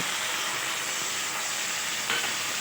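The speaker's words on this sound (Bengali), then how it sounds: "জিরে আর ওই আদা বাটাটা ভালো করে কষানো হয়ে গেলে এবারে আমি কড়াইয়ে ওই ধনে গুঁড়োটা অ্যাড করব" Ground coriander with cumin and ginger paste frying in a wok for a vegetable dish with hilsa fish head, heard as a steady close hiss with one brief clink near the end and no talk.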